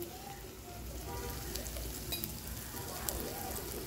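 Spices, salt and turmeric frying in oil with tomatoes give a steady close crackling sizzle that fills the whole clip evenly, with faint clicks on top.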